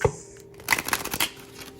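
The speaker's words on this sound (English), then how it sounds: "I'm gonna shuffle this about 2 more times" A deck of tarot-style reading cards is shuffled by hand in a quick papery riffle, close and fairly soft, a short burst of flicking and shuffling without talk.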